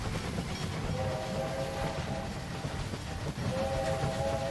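A train runs in the Railway Empire video game, with a continuous low rolling rumble under steady, moderately quiet game audio and two brief whistle-like tones, without speech.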